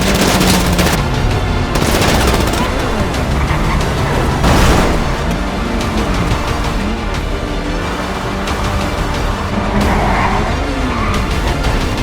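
Video game gunfire rakes a car: rapid shots and bursts under a constant roar of engine and tire noise, loud and dense for the whole stretch with no pauses.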